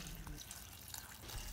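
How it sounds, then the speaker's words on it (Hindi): Hot water pours steadily over coarsely chopped cauliflower in a kitchen, a continuous close splashing and trickling wash with no talk. "हमने गोभी को मोटा मोटा काट लिया और अब गर्म पानी डाल दिया।"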